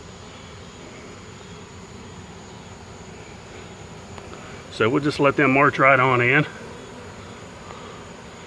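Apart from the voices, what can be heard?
swarm of honey bees buzzing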